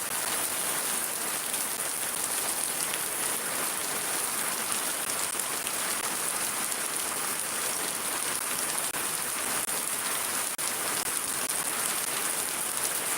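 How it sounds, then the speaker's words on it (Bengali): Steady heavy rain falls continuously in Shariatpur, Bangladesh, a dense, even patter on surfaces, with no voices. "বৃষ্টি কিছুটা কমছে"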